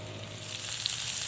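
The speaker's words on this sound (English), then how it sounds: "We're getting some good sizzling happening." Steady, close sizzling of potatoes frying in a pan, a constant hiss with small pops and no talking.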